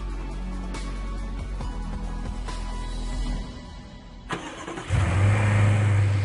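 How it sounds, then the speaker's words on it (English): A BMW X6 xDrive 50i petrol V8 of 450 horsepower starts up, first a steady mechanical hum, then a sharp starter catch and a loud, deep rumble as the engine settles into a rough idle close by. "You are listening to the pinnacle of the all-new BMW X6's petrol engine range, the xDrive 50i."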